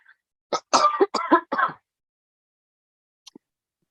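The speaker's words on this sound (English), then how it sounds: "Sorry, I have a very dry cough." A short burst of dry coughs, four or five in quick succession, close by, followed by silence and a faint small click.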